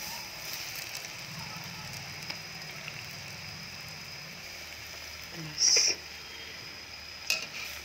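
Hand-rolled dahi vada balls deep-frying in hot refined oil, a soft steady bubbling sizzle with a couple of brief clinks and scrapes of utensils, fairly quiet and close.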